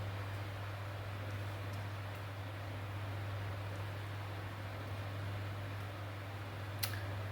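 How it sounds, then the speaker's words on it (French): An electric fan runs in a hot office, giving a steady low hum over soft, even airy noise with a faint click near the end. "j'ai mis le ventilo dans le bureau parce que là, il fait très chaud"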